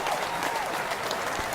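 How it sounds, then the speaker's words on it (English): A studio audience on a television talk show claps in a brief, even burst of applause that fills the whole moment. "Can you do a round of applause for"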